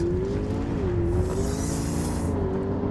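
A McLaren P1 roars continuously while accelerating at very high speed, its engine note wavering up and down under a dense, loud rush of road and wind noise.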